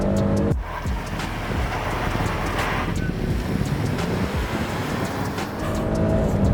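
A 2022 Nissan Frontier pickup with a 9-speed automatic accelerates hard and breaks traction at the rear, giving a loud, steady engine roar with road and wind noise throughout.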